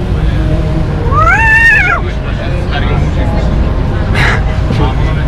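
A voice imitates a cat's rising and falling meow amid a busy background of engine rumble and chatter.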